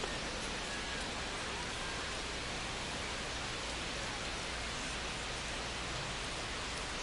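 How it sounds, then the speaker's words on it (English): Heavy rain falling on a baseball field during a baseball video game, a steady, even hiss filling the whole stretch, faint and uniform with no voices. "the field's not going to be able to hold up if the rain gets any worse than this"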